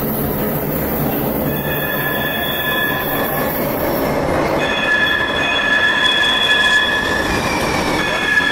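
A Muni Metro train on San Francisco's Central Subway rumbles loudly through a deep underground station, with sustained high wheel squeals and rail clatter throughout.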